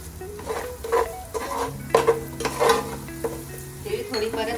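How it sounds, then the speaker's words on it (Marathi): Sesame seeds and browned garlic roasting in hot oil for poha chivda, a close, steady sizzle broken by scraping stirs and a few metallic clinks of a spoon against the pan. "आता आपण याच्यात थोडी तीळ घालूया."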